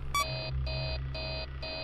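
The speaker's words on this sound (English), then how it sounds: "stop beeping!" Steady alarm beeps repeat in Five Nights at Freddy's 3, four sharp tonal pulses in quick succession, loud and clear over a low background drone.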